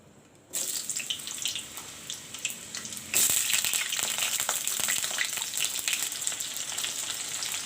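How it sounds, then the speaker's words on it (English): Potatoes and cauliflower frying in hot oil, a steady bright sizzle that starts after a short quiet moment and grows louder partway through, with scattered crackles and pops and no talking. "I'll put the oil to fry the potatoes and the cauliflower."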